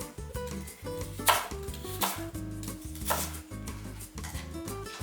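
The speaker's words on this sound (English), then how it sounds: "I can just go ahead and move on to dicing it if I would like." A knife dices vegetables on a cutting board in quick, rhythmic bursts of close chopping taps, loud and regular with short pauses between runs.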